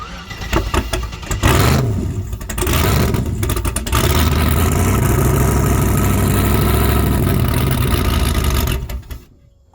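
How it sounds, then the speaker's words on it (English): A car engine, fresh from a racing engine builder and sitting in park with no drive shaft fitted, cranks, catches and fires up, then settles into a loud, steady, rumbling idle before cutting off at the end. "The first time this thing fired up since I shut it off at Ace Racing Engines"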